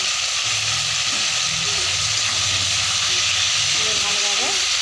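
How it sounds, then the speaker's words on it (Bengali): A paste of ground ginger and cumin fries in a pan with a loud, steady close sizzle and hiss, broken by faint clinks of stirring. "দেখুন ভালোভাবে আদাটা জিরেটা কষানো হয়ে গেছে।"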